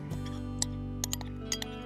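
A spoon stirs cayenne pepper and smoked paprika in a bowl, giving a few light, sharp clinks against the side over a steady low background hum.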